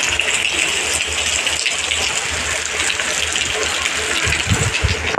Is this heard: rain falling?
yes